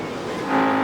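World of Outlaws sprint cars race at Knoxville Raceway in 1995, with a steady dense engine drone that swells slightly toward the end.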